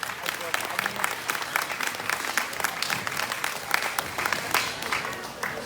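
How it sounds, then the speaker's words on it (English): A crowd applauds at a livestock show grand drive in an arena, a steady patter of many clapping hands at moderate volume, fairly distant and even. "let's give these people a big round of applause"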